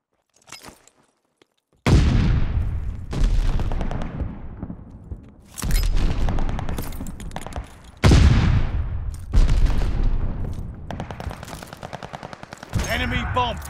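Bursts of rapid automatic gunfire from a Call of Duty Search and Destroy match, several loud sustained volleys separated by short pauses, close and dominant.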